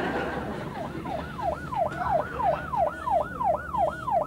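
A police car siren wails in a steady, repeating up-and-down cycle, loud and close, over a low road rumble with no talk.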